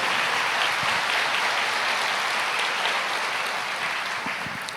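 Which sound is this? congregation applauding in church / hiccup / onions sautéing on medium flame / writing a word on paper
congregation applauding in church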